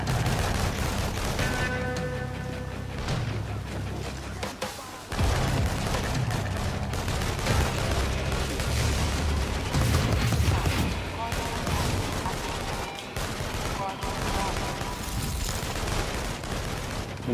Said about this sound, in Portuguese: Eu nem sei de onde é que tá vindo os tiros.